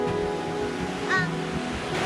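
A waterfall in Pisgah National Forest, North Carolina, pours out a steady, full rushing roar heard close up, with a brief voice rising faintly over it.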